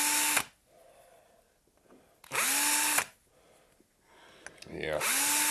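A power tool whirs up in loud, close bursts to cut a chamfer in a workpiece for a homemade rotary vane air compressor. Two full bursts are separated by quieter gaps, and a third starts near the end.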